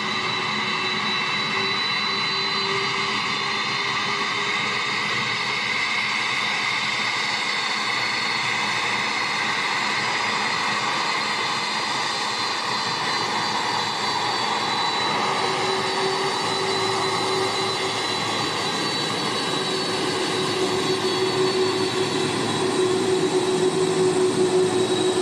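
Boeing 767 freighter jet engines at Auckland Airport roar steadily and loudly, a broad continuous whine and rumble that builds slightly toward the end.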